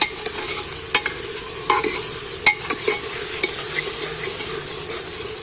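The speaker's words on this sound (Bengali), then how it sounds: "আদা রসুনটাকে তেলের মধ্যে তেল পেঁয়াজের সাথে ভালো করে কষিয়ে নিচ্ছি।" Ginger and garlic paste frying with onion in oil while being stirred for a goat meat curry, a steady close sizzle broken by several sharp scraping strokes from the stirring spoon.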